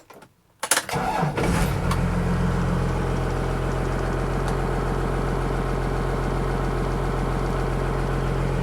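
A first-generation Cummins diesel truck engine cranks briefly, catches with a loud roar and settles into a steady, rumbling idle that carries on close and strong.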